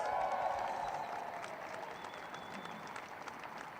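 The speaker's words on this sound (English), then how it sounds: "First time DCU have won the Collingwood Cup. Give them a round of applause." A crowd applauds DCU's Collingwood Cup win, a broad wash of steady clapping that starts strongest and gradually thins as it carries on.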